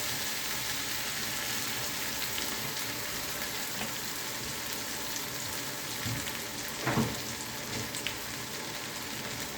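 Meat, onion and tomato frying in soybean oil, a dense, even hiss of sizzling close up with faint bubbling and an occasional louder crackle.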